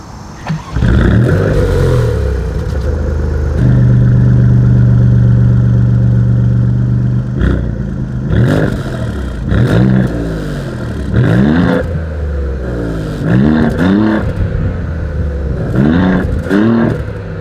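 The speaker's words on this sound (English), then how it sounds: "Here it is, as always, here is that exhaust clip." A 2024 Maserati GranTurismo's exhaust idles with a deep rumble, then revs sharply several times in quick bursts, loud and close, each rev rising and falling away.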